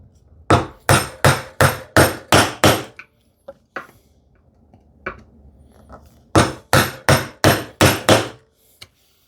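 Wooden mallet striking a chisel while cutting wood by hand for a shoe tidy, two runs of six to seven sharp, evenly spaced knocks with a few scattered taps between, close and loud.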